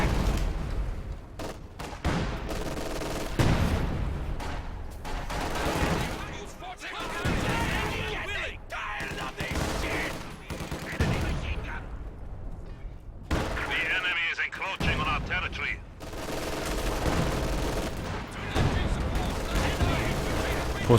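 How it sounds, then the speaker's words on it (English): Sniper rifles fire across a Company of Heroes battlefield, with sharp gunshots mixed into steady machine-gun bursts and booming artillery, all loud and continuous under a commentator's voice. "Snipers sniping away."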